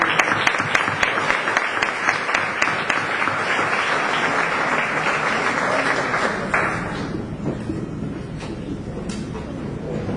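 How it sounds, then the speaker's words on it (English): Audience applauding at a peace essay contest in Modesto, California, a full dense round of clapping that holds steady, then thins and fades toward the end. "All right, another round of applause,"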